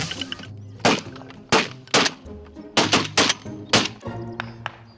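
Shotguns fire during a winter goose hunt on Maryland's eastern shore, about eight sharp, loud blasts in quick irregular succession, some nearly overlapping, with geese calls faintly between them.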